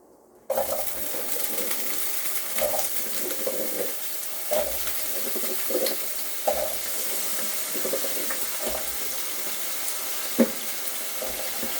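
Hot water is poured into a pot of sautéing vegetables for beef caldereta, a steady hissing rush with faint clinks and sizzle that runs for about eleven seconds, with no talk.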